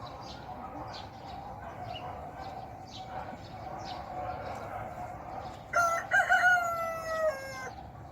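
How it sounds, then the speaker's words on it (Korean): A rooster kept at a home garden crows loudly and close by in one long, rising-then-falling call near the end, after steady outdoor ambience with faint birdsong in the background. "저희 집에 닭을 키우고 있어서 닭이, 수탉이 울어 제낍니다."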